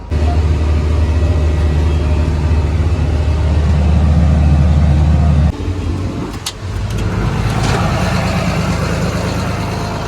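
A John Deere 2840 tractor engine runs loud and close with a deep steady drone while moving, then the tone drops and shifts midway with some rattling and clatter, no voices.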